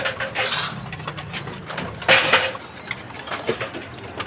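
Pigeons in a cage making soft low cooing calls under a faint background hum, with a brief brighter rustle or flutter midway.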